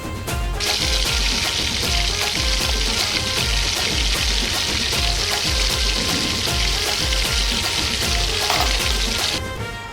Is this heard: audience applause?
no